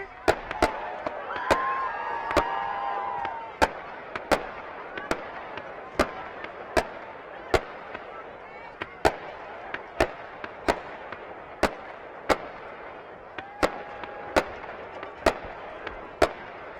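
Fireworks set off after a home high school football win, the Ava Bears over the Mountain Grove Panthers: sharp, loud bangs repeating at a steady pace for the whole stretch over a murmuring crowd.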